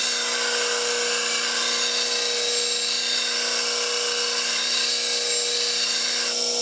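Bench grinder sharpening a spindle gouge freehand, a continuous loud high-pitched whine with steady grinding hiss throughout, no talk.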